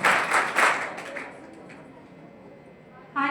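A crowd at a 12th board merit felicitation ceremony claps for a student: a loud burst of applause that thins and fades away over a couple of seconds, leaving quiet room noise before a brief sound at the end.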